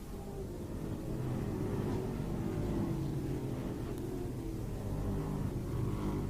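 Late model race cars run at Star Speedway, their engines roaring as a dense, continuous low rumble that swells and holds steady as the cars circle the track.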